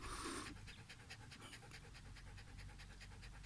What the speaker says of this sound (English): you can hear my dog just waiting for me to throw the frisbee at her